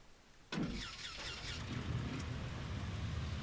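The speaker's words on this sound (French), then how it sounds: "Allez, on va démarrer, mes amis, le starter." Simulated Cessna 140 light aircraft engine cranking and catching in X-Plane 11, starting abruptly after a quiet moment and settling into a steady, fairly loud running drone.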